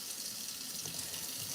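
A kitchen faucet runs while raw meat is washed under it: a close, steady hiss of running water with no voices.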